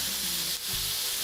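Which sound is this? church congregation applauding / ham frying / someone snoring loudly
ham frying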